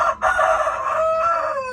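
A rooster crows loudly and close, one drawn-out cock-a-doodle-doo that rises and then trails off, with faint clucking beneath it.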